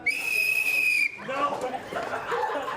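A whistle blown during a Pub Golf drinking game among students, one sustained shrill blast lasting about a second, followed by a noisy crowd chattering and laughing in the background.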